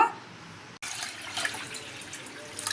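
Water sloshes and trickles as jowar semolina is washed in a bowl, a soft continuous splashing that picks up after a brief pause.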